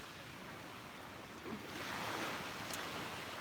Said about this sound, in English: this is the Gulf of Mexico behind me